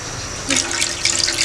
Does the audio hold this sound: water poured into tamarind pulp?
yes